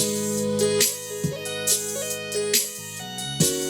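Synthesizer tones added to a beat's hook play a short melodic phrase, with sustained notes and brief bright percussive hits every second or so, no voices.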